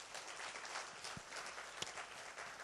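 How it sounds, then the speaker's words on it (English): Applause from an audience for the speakers at a food and nutrition insecurity session, a dense, steady wash of many hands clapping at moderate volume with a couple of sharper knocks and no talk. "Let's have a round of applause for our speakers."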